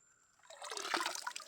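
River water rushes and gurgles steadily after a quieter start, a close, continuous flowing sound in the mountains.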